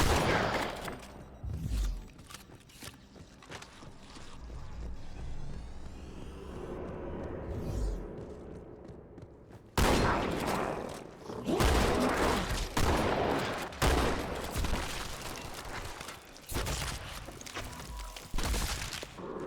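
Gunfire in the Halo 2 video game on Heroic difficulty: rapid bursts and single sharp shots, loud and close, crowding most of the stretch with a brief quieter gap in the middle, and no voice over it.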